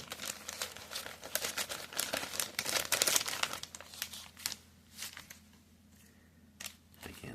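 Cellophane wrapper on a 1980 Topps football card pack crinkles and tears loudly up close, a dense burst of crackling that thins into scattered rustles toward the end.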